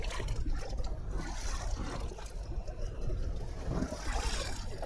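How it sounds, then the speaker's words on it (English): Footsteps wading through water in The Last of Us sound design, muffled sloshing and swishing of legs moving through shallow flooded ground, a continuous close watery churn. "different sounds to show that his legs are wading through water, while his feet are still lifting in and out of the water he's walking in"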